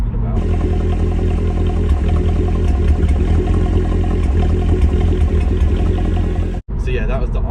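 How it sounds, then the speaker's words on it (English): A Mercedes C63 engine idles roughly with a jerking, uneven rhythm, its loud, close low rumble steady with faint clatter before a brief cut and a shift in tone near the end. "I did manage to actually capture finally the jerking idling"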